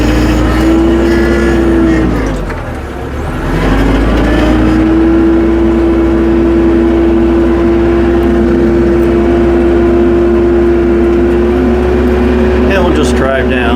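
Farm tractor fitted with pewag snow chains driving down a snowy driveway, its engine holding a steady loud drone with a brief dip early on, occasional chain clatter, and a voice talking over it.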